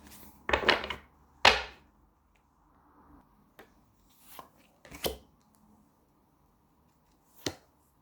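A deck of tarot cards is shuffled and cards are drawn, heard as a few separate quick riffles and soft taps close by, with quiet gaps between them.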